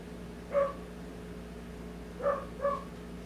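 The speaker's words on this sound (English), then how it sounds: "Sorry about the barking dog." A dog barks in the background during a live play-by-play football broadcast of Raiders vs Lions, three short, moderately loud yips or barks spaced across a few seconds over a low steady hum.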